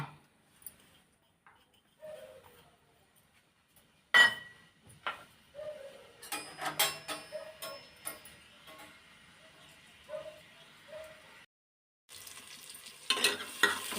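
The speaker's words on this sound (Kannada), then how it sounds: "ಇದು ಒಗ್ಗರಣೆಗೆ ಒಂದು ಸ್ವಲ್ಪ ಈರುಳ್ಳಿ ಹಾಕೋಣ" Soft stirring and intermittent sizzle of onions frying in oil in a cooker, with scattered clinks and scrapes, growing busier toward the end.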